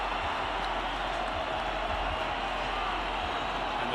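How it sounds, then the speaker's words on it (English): Steady roar of a college football stadium crowd at a 2021 Miami versus Pitt ACC game, a broad continuous wash of noise with no distinct peaks, heard from a distance. "And the crowd is into it, that is for sure."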